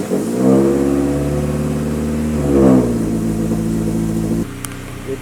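A K-swapped Acura Integra engine runs close by, its tone swelling through two throttle blips before settling to a steadier idle, then dropping lower near the end.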